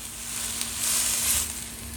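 Vegetables frying in a pan over a high flame give a steady, close hiss and sizzle that swells and eases slightly, with a low electrical hum beneath and no talk.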